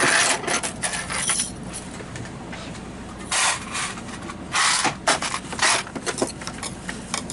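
A sewing machine stitches forward, reverses for a back stitch, then runs forward off the end of faux fur fabric, in several short bursts of whirring separated by quieter pauses.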